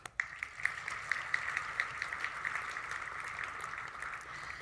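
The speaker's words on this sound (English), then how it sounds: "Another round of applause." Audience applause at an engineering excellence awards ceremony, a steady wash of clapping from a crowd heard at moderate distance, holding evenly for several seconds before easing slightly.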